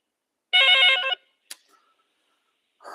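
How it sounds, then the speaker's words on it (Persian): A telephone rings in one sharp, bright trilling burst, followed by a click, silence, and the start of a second ring. "زنگ تلفن را گوش میکنیم"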